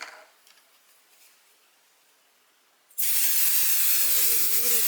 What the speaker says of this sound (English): I'm going to spray the 505 temporary adhesive.